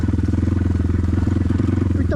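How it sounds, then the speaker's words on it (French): On a BTC T18 motorcycle, the engine skid plate rattles in a fast, steady buzz over the loud, pulsing idle of the engine, heard up close throughout. "Là ce que vous entendez c'est le sabot moteur"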